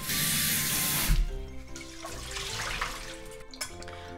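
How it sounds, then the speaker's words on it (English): Tap water runs steadily into a bowl of rice for rinsing ahead of making Japanese mixed rice, starting as a loud broad rush and then giving way to softer splashing and swishing of water and grains, with no voices. "I'm going to rinse it a little bit more with running water."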